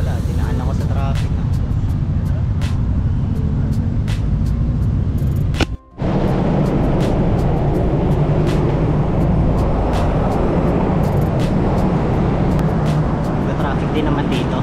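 Steady road traffic rumble around a cyclist on a busy city street on a Saturday night, continuous broadband roar with wind noise and occasional clicks, briefly cutting out for a moment midway before resuming.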